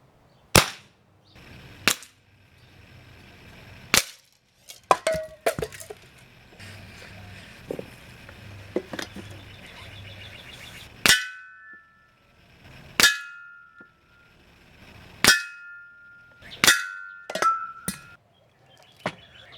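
A Beeman 1330 Raider .177 PCP air rifle fires about ten sharp, loud cracks spaced a couple of seconds apart, some with a ringing metallic clang from a struck target, separated by quiet handling noises.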